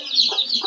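A chicken gives two quick clucks close by over a thin, high background hiss.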